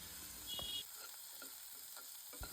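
Finely chopped onions frying with a curry-leaf, cumin and ginger-garlic tempering in a pan for ivy gourd poriyal, stirred by hand: a steady sizzle broken by several distinct scraping strokes of the spoon.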